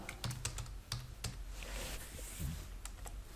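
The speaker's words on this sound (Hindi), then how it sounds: "एंटर दबाया, टैब दबाया" Computer keyboard keys, including Enter and Tab, pressed in a few distinct clacks with brief pauses between them, close and clear over a quiet room hum.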